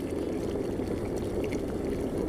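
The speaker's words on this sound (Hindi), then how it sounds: "इस तरह से हम इसके जोश को थोड़ा सा जो है वो ठंडा करेंगे, ऊपर नीचे करेंगे हम चाय को" Boiling masala karak chai, brewed with tea leaves, ladled up and down in a continuous rushing pour and bubble that is close and fairly loud.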